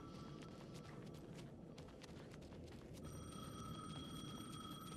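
A telephone rings in the horror video game Alan Wake 2, its steady ringing tones sounding faintly through a quiet, low rumbling game ambience with no talk.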